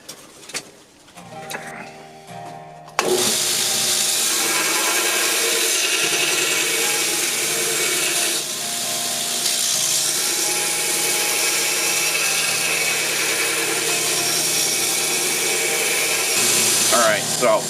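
A San Mai Damascus skinner knife blade being ground to final shape on a grinder, a steady loud abrasive whine that starts abruptly after a few quiet seconds and runs continuously to the end.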